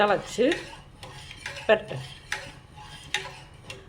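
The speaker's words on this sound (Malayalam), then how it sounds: "അപ്പം നമുക്ക് അതൊന്ന് നന്നായി ഇളക്കി കൊടുക്കാം" A spoon stirs coconut milk curry in a pot, meant to go with palappam, giving a series of close scraping knocks and clinks against the metal at an uneven pace, with a faint sizzle beneath.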